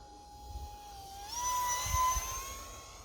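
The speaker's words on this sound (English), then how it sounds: "High throttle, you can hear the air whooshing through that fan." A UMX Viper 30mm micro jet engine spools up to high throttle, its thin whine rising in pitch and then holding steady over a breathy rush of air through the fan. It sounds close and alone, with a few low bumps underneath.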